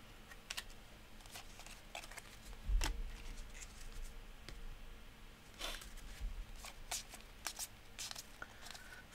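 Donruss soccer trading cards being flipped through by hand, soft papery flicks and snaps arriving irregularly, quiet and close, with a slightly louder shuffle partway through.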